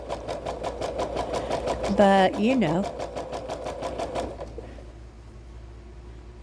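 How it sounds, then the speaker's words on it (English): A sewing machine whirs with a fast, even mechanical rhythm, a person talking briefly over it, before the motor stops and the room goes quiet. "you might get mad if your sewing machine don't act right"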